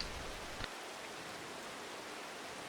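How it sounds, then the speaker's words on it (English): Light rain falls outdoors at a mountain ranch in the morning, a soft, even hiss of drops that continues steadily, faint and without any voices. "There's some rain."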